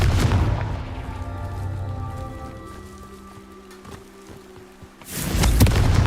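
A Confringo explosion spell in Hogwarts Legacy: a loud, close fiery blast at the start, a quieter humming lull, then a second heavy burst that swells and holds near the end.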